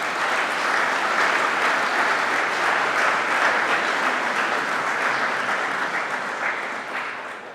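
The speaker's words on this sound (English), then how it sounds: "but let's give him a round of applause anyways." Sustained applause from an audience at an Order of Manitoba investiture ceremony, a steady dense wash of clapping that holds evenly and then gradually fades toward the end, with no talking.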